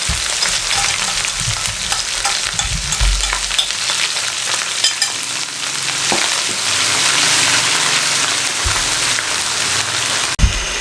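Masala and stuffed eggplant, Hyderabadi-style baingan, frying in a pan with a steady close sizzle and occasional soft stirring knocks, no voices.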